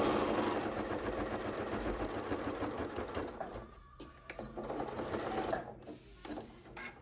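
A sewing machine stitches fabric back and forth on a gift bag seam, a steady close mechanical whir that slows and pauses near the end with a few light clicks.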